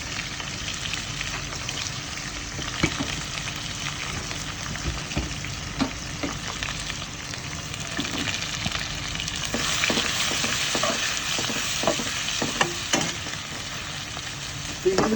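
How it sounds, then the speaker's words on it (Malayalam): Onions and curry leaves fry in a pan, giving a continuous close sizzle with occasional stirring scrapes and pops and no talking. "നമുക്ക് ഇതേപോലെ ഒരു പാത്രം വെച്ചിട്ട് കുറച്ച് കറിവേപ്പില ഇടാം. എന്നിട്ട് കുറച്ച് സവാള ഇട്ടിട്ടൊന്ന്"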